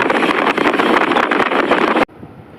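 Strong wind blowing near the Janki Jhula bridge over the Ganges in Rishikesh, buffeting the microphone with loud, rough gusts for about two seconds before cutting off abruptly.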